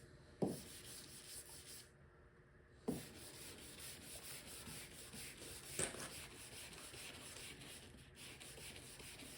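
Soft, steady rubbing of sandpaper on the body paint of a 1966 Mustang, close and quiet, broken by a few sharp taps and short pauses.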